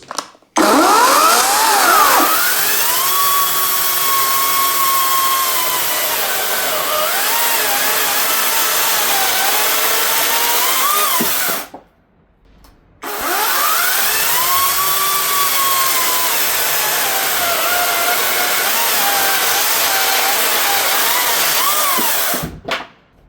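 A Parkside Performance 40V cordless chainsaw revs loudly and bites into wood in two long cuts, with a whining motor that bogs and rises under load and a short pause between cuts.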